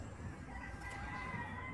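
A faint chicken call sounds briefly over a low, muffled background.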